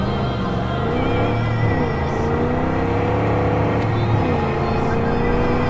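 Video game car engine from Far Cry 5, a steady loud rumbling drone with shifting pitch as the vehicle is driven, revving and easing through gear changes, continuous throughout.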